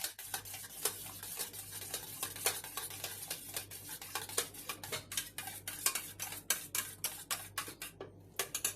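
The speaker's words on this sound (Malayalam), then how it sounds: "ഞാൻ ചെറുതായിട്ടൊന്ന് കൈ കൊണ്ടൊന്ന് ഉടച്ചെടുക്കുന്നതേ ഉള്ളൂ" Curd is mashed by hand in a bowl for a curd salad, producing quiet, rhythmic wet squishes and soft clicks repeated steadily at close range.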